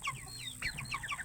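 Chickens give a short burst of quiet, high clucks and chirps. Several quick calls follow one another rapidly at a modest distance.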